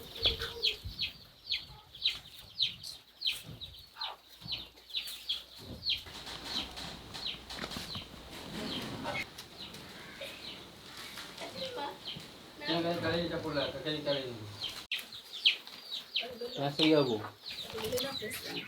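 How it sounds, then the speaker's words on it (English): Several chickens cluck and cackle nearby at a family home in Zanzibar, calls rising and falling over time, with people talking at moments in between. "Oh, you have some chickens!"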